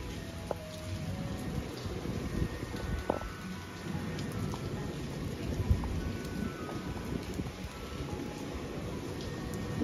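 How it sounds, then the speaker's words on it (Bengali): Steady heavy rain falls through a morning at a riverside resort near the Rupnarayan river, a continuous dense wash of drops with no talk over it. "পুরো বৃষ্টি পড়ছে"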